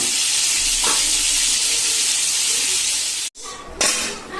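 A steady broadband sizzle of chicken frying in a pan for pulao runs almost throughout, broken by a brief drop near the end before the hiss resumes.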